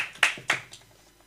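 A few scattered hand claps from a church congregation during a sermon, short sharp slaps spaced unevenly and fading out, fairly close and modest in volume, with no voices over them.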